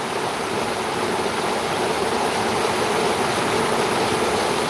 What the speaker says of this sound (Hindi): गजब बारिश हो रही है।